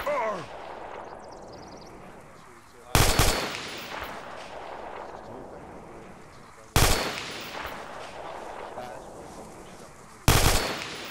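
Three loud bursts of automatic gunfire in a military video game, spaced a few seconds apart, each with a booming echo tail, amid radio-style voices and ambient battlefield noise.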